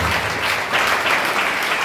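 A church congregation at a Friday fasting prayer service claps fast and continuously, a dense, loud burst of many hands with no pauses throughout.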